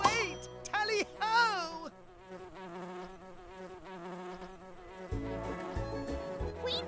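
Buzzing bee wings hum and swoop in pitch over a light game-style musical background, fairly quiet and continuous.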